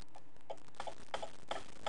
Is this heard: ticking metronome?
yes